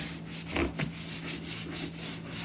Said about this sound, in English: I am gonna do some scrubbing